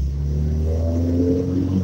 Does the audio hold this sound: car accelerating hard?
yes